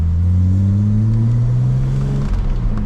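A 1992-era BMW E30 325i's inline-six engine pulls steadily under gentle acceleration, a loud, close interior drone whose pitch climbs smoothly, with no voices over it.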